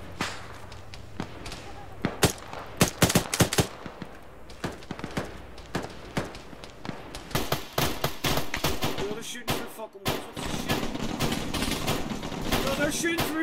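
Gunfire in ArmA 3 during a military campaign, with enemies shooting through walls: rapid cracking shots and bursts, some very close and loud, others scattered, with players talking over the firing.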